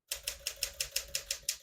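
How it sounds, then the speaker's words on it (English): A 1964 Classic 10 vintage portable typewriter is typed on in an even rhythm: nine crisp, close keystrokes, each a sharp clack, with no talking. "As you can see, all the keys type nice and none of them skip or stick."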